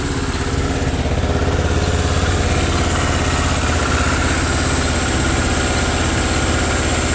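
A red 2007 motorcycle with about 7,300 miles on it idles up close, its engine giving a loud, steady, even throb that runs without a break and with no talk over it.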